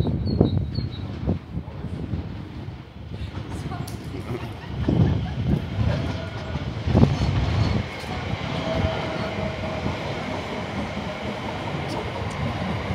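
Train running along rails in East London, a continuous rumbling and rattling of wagons that stays fairly loud throughout, with some voices and city noise in the background.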